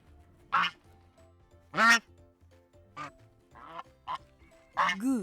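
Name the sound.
goose honking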